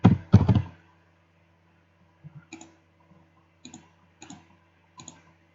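Keyboard and mouse clicks while entering a number in Lineage 2, two loud clusters of taps followed by a few sparse, quieter clicks, heard alone without talk.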